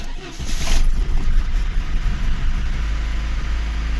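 A fully cold VAZ 2109 engine starts for the first time after a cylinder head repair, its loud steady running drone rising early and then settling into an even idle close by.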